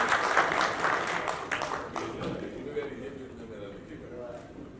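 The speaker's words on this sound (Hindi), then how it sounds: "जोरदार ताली से स्वागत कीजिएगा आदरणीय मैडम का" An audience breaks into loud applause to welcome a woman guest at an awards ceremony, with broad clapping strongest at the start and then thinning as a voice speaks over it.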